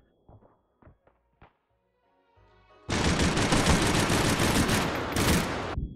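Light machine gun in the VR shooter Hot Dogs, Horseshoes & Hand Grenades opens up in a loud, dense sustained burst lasting about three seconds, preceded by a few scattered quieter clicks and thumps.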